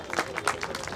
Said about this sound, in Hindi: जोरदार तालियां जयदीप सकलानी जी के लिए।